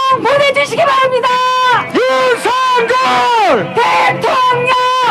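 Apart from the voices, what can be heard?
rally crowd cheering and chanting for candidate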